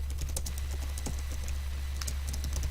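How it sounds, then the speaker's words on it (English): Steady run of close key clicks as a git checkout command is typed on a computer keyboard, quiet and continuous over a low hum, with no voices. "we're going to type in checkout"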